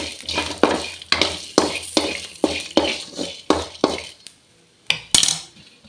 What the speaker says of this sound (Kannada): ಶುಂಠಿ ಫ್ರೈ ಮಾಡ್ತಾನವ